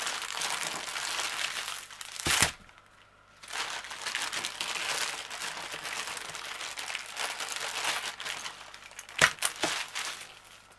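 Cardboard box and plastic bag packaging from a diamond painting kit rustled and crinkled during unboxing, close and fairly quiet, with irregular crackles and a couple of sharper handling bursts.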